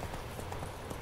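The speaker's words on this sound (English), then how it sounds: "Where's my horse?" Horse hooves clip-clop in a quick steady rhythm in The Witcher 3: Wild Hunt, moderately near and fairly soft, with no talking over them.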